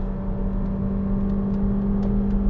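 Seat Ateca FR SUV engine pulls steadily under acceleration from inside the cabin, a sustained mid-pitched drone with a hint of rising revs and road whir, no talking.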